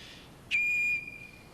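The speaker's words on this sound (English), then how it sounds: "Now, I was working on my own whistle" One steady, high-pitched tugboat whistle blast sounds for about half a second, clear and fairly close, then cuts off.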